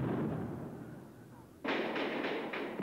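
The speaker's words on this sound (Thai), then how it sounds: "เสียงระเบิดหน้าโรงพยาบาลเมื่อเวลา 5:30 นาทีเป็นสัญญาณเริ่มปฏิบัติการช่วยตัวประกัน" An explosion goes off in front of a hospital as a hostage-rescue operation begins, a sudden loud blast cutting through a rumbling background, followed by several sharp repeated bangs.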